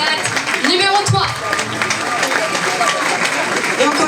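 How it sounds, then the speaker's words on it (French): Audience applause for a pageant contestant at the Miss Yonne 2024 event, a steady wash of clapping filling the room while a presenter speaks over it. "on applaudit bien fort votre candidate numéro 3"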